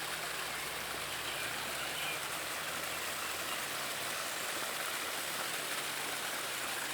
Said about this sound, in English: and this is the start of the waterfalls.